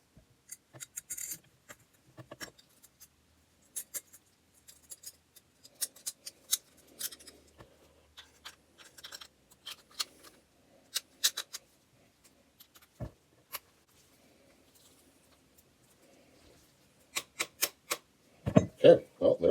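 Chinese TT-33 Tokarev pistol being reassembled with a compensator fitted, sparse close metallic clicks and sliding clacks of parts scattered across the clip, with louder racking snaps near the end.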